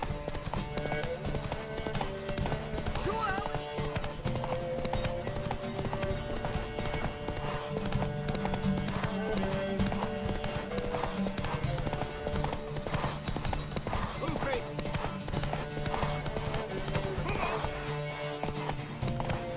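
Horse hooves galloping in The Witcher 3: Wild Hunt, a fast, continuous clip-clop rhythm up close with an occasional whinny, set against game music and ambience.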